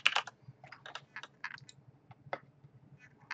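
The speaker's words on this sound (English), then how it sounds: "Put in the current password and then type in a new password." Keys on a computer keyboard tapped in short bursts while a new password is entered, close and fairly quiet, with brief pauses between clusters of keystrokes.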